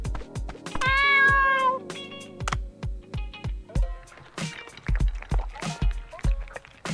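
A cartoon cat in the underwater restaurant game Dave the Diver gives a drawn-out meow, set among a steady run of sharp, rhythmic game clicks and bright chimes, with no talking.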